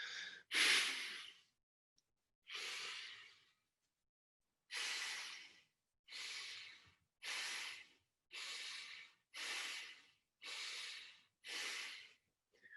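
Fire breath: a series of about ten forceful, pulsed exhales through the nose, each a short, loud, breathy snort. They come in a steady rhythm after a couple of spaced opening breaths, close and alone with no talking.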